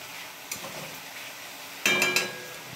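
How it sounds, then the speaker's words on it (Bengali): Spices frying in a pan of potatoes and turmeric give a soft, steady sizzle, then a few sharp clattering bursts of stirring near the end, close and without speech. "এখানে মশলা ভাজাটা হোক"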